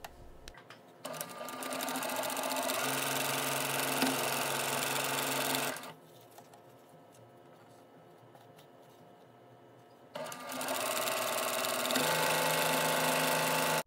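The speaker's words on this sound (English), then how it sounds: "Now I'm sewing one fabric G unit to the top of the bow unit." A sewing machine stitches quilt fabric pieces for a Christmas quilt block, running in a loud, steady whir. It pauses to near quiet in the middle, then resumes at the same close, continuous pace.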